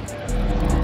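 A rowdy car engine roars in loudly partway through, a near, harsh burst of revving that continues to the end, with people talking nearby.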